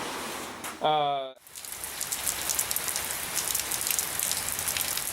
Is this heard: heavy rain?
yes